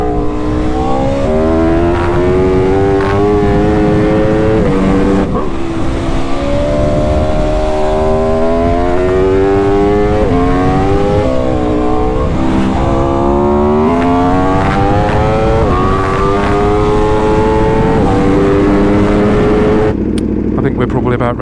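An Aprilia RSV4 RF Limited Edition superbike engine revs loudly and continuously, its pitch rising and falling through repeated throttle blips, close up and dominating throughout.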